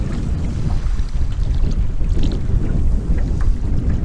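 Wind gusting across McCrae Lake while paddling, a loud low rumbling buffet against the microphone with faint water sounds, steady and close throughout, no voices.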